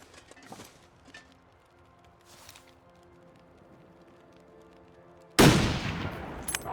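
A rifle fires in the survival game The Long Dark, a sudden loud blast near the end that stays dense and roaring for over a second, after a stretch of quiet ambient sound with a few faint clicks.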